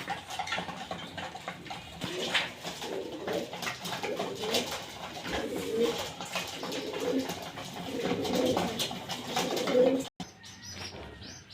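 Pigeons coo in a loft in a low, repeated warbling chorus, with chirps and brief wing flutters mixed in, steady and moderately close, and a short clatter near the end.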